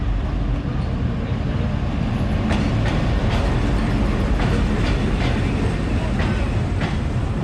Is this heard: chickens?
no